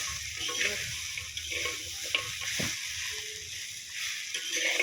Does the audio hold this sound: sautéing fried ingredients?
yes